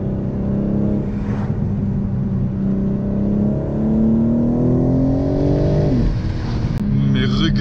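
BMW M3/M4 Competition engine on a race circuit, heard loud and close from on board as revs climb steadily, drop sharply at a gear change, then build again.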